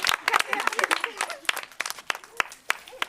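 Several people clap in scattered, uneven bursts at a neighbourhood Sankranti rangoli contest, the claps sharp and close with voices talking over them.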